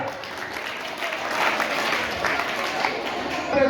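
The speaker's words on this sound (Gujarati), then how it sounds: "જોરદાર તાળીયા." An audience in a Jain question-and-answer session breaks into sustained, moderately loud clapping, a steady dense patter that swells slightly toward the end.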